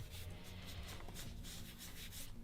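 A baby wipe rubbed very gently over chalk paint on furniture in a Gustavian-style makeover, heard as faint, close, rhythmic rubbing strokes with a soft scuffing texture, and no one speaking.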